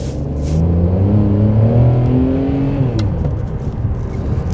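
A 2008 Ferrari 599 GTB Fiorano with a six-speed manual gearbox, heard from inside as the engine note rises under acceleration, drops sharply at a gear change, and then keeps pulling, loud and close.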